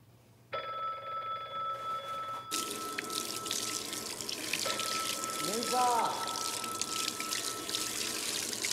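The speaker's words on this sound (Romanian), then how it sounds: "sună telefonul!" A telephone rings with steady electronic tones at home while a faucet runs water into a sink, the ringing sustained and fairly close, with brief voices underneath.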